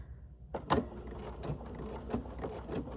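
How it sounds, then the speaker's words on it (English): A sewing machine stitching a quarter-inch seam on a quilt block, short mechanical whirring bursts with clicks and pauses, close and fairly quiet, no talking. "We're sewing a 1/4 inch to either side of this drawn line."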